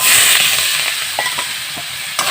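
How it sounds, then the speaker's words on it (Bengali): Marinated chicken hits a little hot oil with a close, loud hiss that slowly settles into steady frying, with a few stirring knocks and a scrape near the end, no voices. "সেই মাংসটা আমি তেলের উপরে দিয়ে দেবো।"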